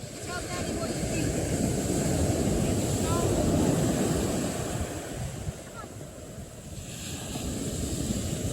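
Ocean surf rolls onto a Florida beach on the Space Coast, a broad steady wash with wind buffeting the microphone that swells and eases, and family voices talking over it.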